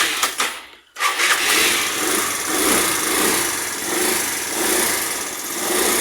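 A motorcycle scooter fitted with a triple-electrode spark plug cuts out briefly, then fires up and settles into a steady, buzzing high-pitched idle close by.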